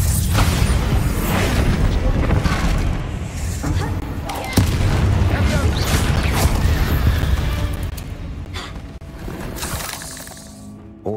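A Bombarda blasting spell explodes in Hogwarts Legacy, a loud, dense booming crash with shattering debris that fills the whole stretch and rolls on with rumbling game effects before easing off near the end.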